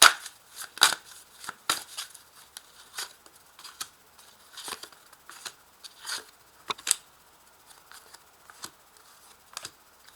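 Tarot cards are shuffled by hand in a quiet room, giving a string of crisp, dry riffling bursts and snaps of varying strength spread unevenly across the clip.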